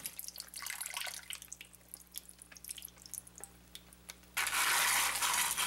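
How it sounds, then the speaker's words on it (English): Brine poured over a 5-pound brisket in a 2-gallon plastic bag, heard as scattered drips and trickles that turn into a loud, steady rush of pouring liquid near the end. "We place the brisket into a 2-gallon plastic bag and add the brine."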